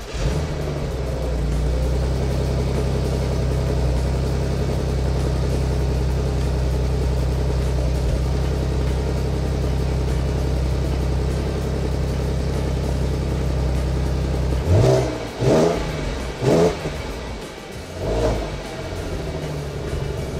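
An Audi A6 C6 engine started from cold settles into a steady, loud idle with low harmonic droning, then gets several short sharp blips of revving near the end, each rising and falling quickly.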